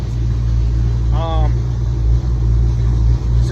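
A 305 small block Chevy V8 in a budget street truck warms up with a steady, loud low rumble, joined briefly by a short rising whine partway through.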